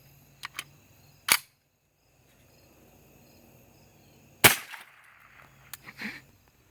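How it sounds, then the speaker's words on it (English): .22 rifle firing a subsonic solid bullet: one sharp, loud crack midway through, with a short tail after it, set among a few smaller clicks and knocks in otherwise near-silent surroundings. "that's the subsonic solid bullet out of the rifle"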